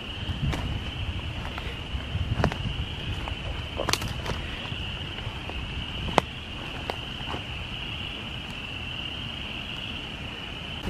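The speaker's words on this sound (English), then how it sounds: "Here's some spring peepers." After heavy morning rain at Iroquois Park, a chorus of spring peepers forms a steady, continuous high-pitched trill in the distance, with occasional sharp clicks and rustling nearby.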